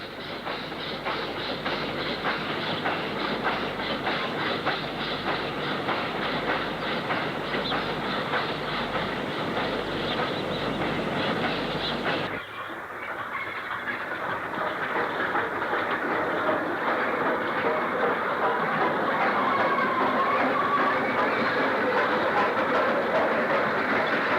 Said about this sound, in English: Patrick Ross 48374 climbs to Bolton sidings and returns with stone hoppers.